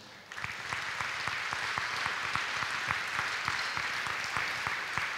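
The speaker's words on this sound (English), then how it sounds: "They need a round of applause for that." A crowd at the Winton Woods City Schools North Campus ribbon-cutting ceremony applauds steadily, a dense wash of clapping with a few sharper individual claps standing out, moderately loud and unbroken.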